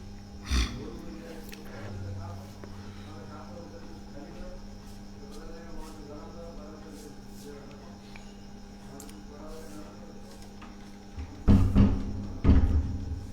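Indoors during a spoken religious discourse, a door is shut with a couple of loud, close thumps near the end, following a stretch of quieter background talk and small knocks.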